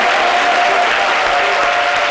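A television studio audience gives a standing ovation, dense continuous applause at full volume with no pauses, close and loud from start to finish.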